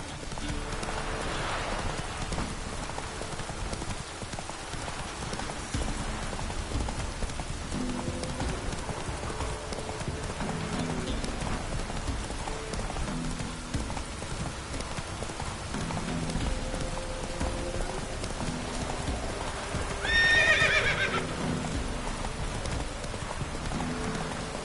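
Horse galloping in The Witcher 3, a steady drumming of hooves with a rain-like wash over the whole stretch and one short neigh near the end.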